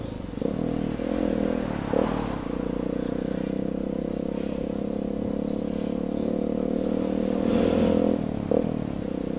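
A vehicle accelerating at full throttle through a flood-hit town street, its engine note rising steadily and loud with the odd clatter, no talking.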